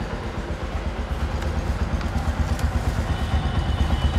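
A 2023 Bajaj Platina 110 ABS motorcycle idles after starting, its exhaust giving a close, steady low putter of rapid even pulses that continues without a break.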